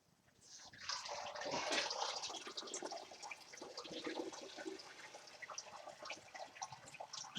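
Liquid draining from a small home-brew mini mash, a steady faint rush and trickle of water that swells early and then runs on with light splashing, no voices.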